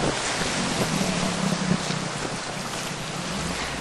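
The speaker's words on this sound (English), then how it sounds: "Narrow dugout canoes with outboard motors on the back make for quite exciting travel." Narrow dugout canoe with an outboard motor on the back travelling the Cayapas River in Ecuador, a steady engine drone under rushing water and wind noise, continuous and close throughout.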